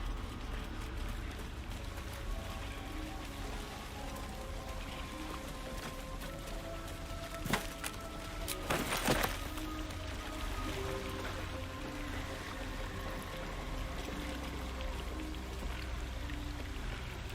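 A steady rushing roar of a waterfall in the fantasy video game Baldur's Gate 3, constant and full throughout, with a few brief splashy bursts near the middle and no speech.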